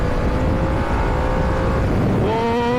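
A 2023 Harley-Davidson motorcycle engine drones loudly and steadily up close, then its pitch climbs as it revs near the end, with no talking over it.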